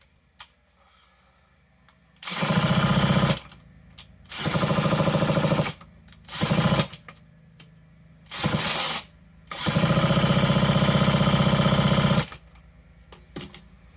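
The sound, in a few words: power drill running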